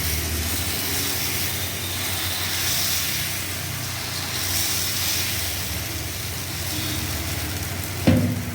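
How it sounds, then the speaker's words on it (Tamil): Dosa batter sizzles steadily on a hot pan while idli steams nearby, a continuous close frying hiss at even loudness with a brief clatter near the end. "இட்லி வேகுது, அதுக்குள்ள தோசை விட்டுக்கலாம்."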